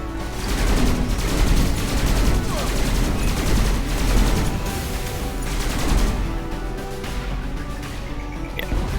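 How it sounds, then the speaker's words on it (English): Plasma cannon fire in the video game SkyForge comes as a loud, dense barrage of rapid energy-weapon blasts with booming impacts, nearly continuous throughout before easing off slightly at the end. "Plasma cannon. It's a little purple beam of death."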